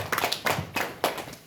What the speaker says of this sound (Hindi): तो एक बार आप अपने लिए ताली बजा दीजिए।